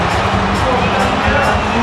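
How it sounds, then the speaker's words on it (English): A boxing arena crowd roars continuously, a dense loud wash of cheering and noise throughout, with a commentator's voice talking over it. "Listen to the crowd."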